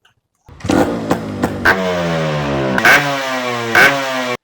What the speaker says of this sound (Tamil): இந்த வண்டியை ஸ்டார்ட் பண்ணி காமிக்கிறேன் பாருங்கள்